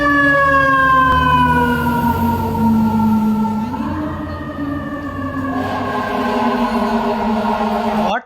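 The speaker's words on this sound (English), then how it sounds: "Fire truck." A fire truck siren wails loudly and continuously, its pitch sliding and shifting between tones, close by with a low engine rumble underneath and no voices.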